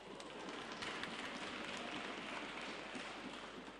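Audience applauding steadily, a dense patter of many hands clapping at moderate distance, sustained evenly throughout with no voices over it.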